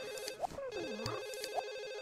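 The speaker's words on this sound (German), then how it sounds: "Telefon." Telephone ringing at night in the life-simulation game The Sims, a rapid trilling electronic ring repeating steadily and clearly alone, mixed with a few short in-game sound effects.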